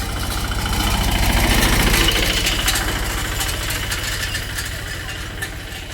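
A tractor engine idles close by, giving a steady low rumble with a rough, knocking pulse. It swells briefly and then eases off slightly.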